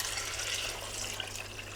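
A litre of strained stock poured steadily into a cooking pot for a meat and potato brown rice pilau, giving a continuous close splashing, running-water sound with no talk.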